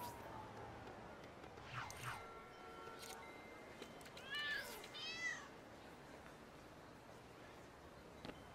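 A cat meows several times in the video game LEGO City Undercover, short high calls close together midway, over a quiet game ambience with some speech.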